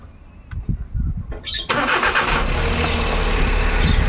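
Quiet clicks and a brief cranking whir, then a cold Suzuki Every Wagon DA64W engine catches and roars to life, settling into a steady running rumble up close.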